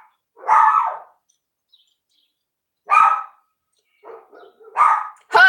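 A dog barks in separate, loud, close outbursts with quiet gaps between them, a single bark followed by a pause, another bark, then a quick cluster of several barks as it comes down the stairs.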